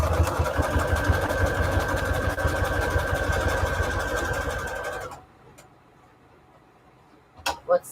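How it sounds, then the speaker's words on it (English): A sewing machine runs a zigzag stitch on scrap paper, a fast steady mechanical whirring and ticking for about five seconds that stops abruptly, followed by near silence and a couple of soft knocks. "let me get onto my sewing machine here. I'm going to use a zigzag stitch for this."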